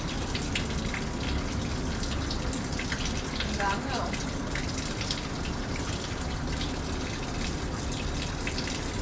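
Tap water runs steadily while a plastic funnel used for oil is rinsed in a sink, a dense, even gushing stream with faint splashes and a voice speaking briefly over it.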